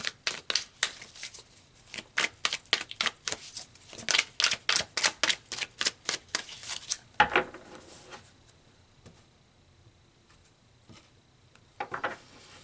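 Tarot cards being shuffled, a close, steady run of crisp riffling snaps and taps for several seconds, then quiet handling and a soft pull of cards near the end.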